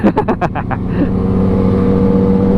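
A Yamaha R6 sport motorcycle engine close by: a few sharp revving bursts, then a steady, loud droning hum as it goes past.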